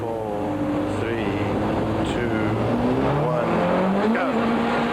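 A 1993 Volkswagen rally car idles and revs at a stage start, recorded from an onboard cam, with engine tones rising and falling steadily and loud under brief talk.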